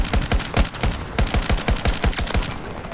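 Rapid gunfire from a first-person shooter match in Battlefield 2042, a steady burst of sharp, punchy shots repeating roughly every quarter second for several seconds, loud and close with no talking.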